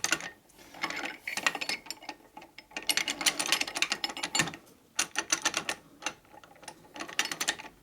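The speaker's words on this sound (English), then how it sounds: "Screw it in." A part is screwed into an S&S 96ci Evo flywheel crankshaft during truing, producing close, rapid ratcheting clicks in several bursts separated by short pauses.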